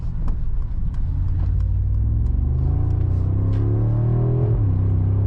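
A 2025 Mercedes-AMG G63 V8 SUV engine accelerates from a deep rumble into a rising, strengthening roar, loud and close, with no one talking.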